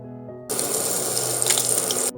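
Chilies dropped into hot oil with cumin and black gram for a festival chana sundal, a steady bright hiss that bursts up suddenly and holds close and loud for under two seconds, then cuts off.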